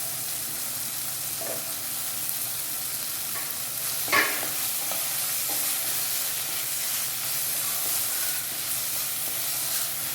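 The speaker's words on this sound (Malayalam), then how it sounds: "തക്കാളി ചെറുതായി അരിഞ്ഞ് ചേർത്ത് നന്നായി വഴറ്റുക." Chopped tomato with crushed ginger, garlic and green chili sautés in a pan for dal fry, giving a steady soft sizzle. Occasional stirring scrapes and a louder clack come through, with no talking.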